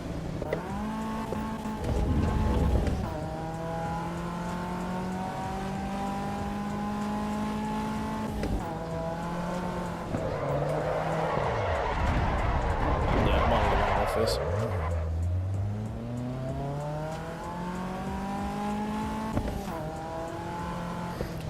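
A Caterham's engine in the racing game Assetto Corsa Evo, running on road tyres: repeated rising revs through the gears with drops on upshifts, a mid-lap burst of tyre scrub as the car slides, and a commentator talking over it.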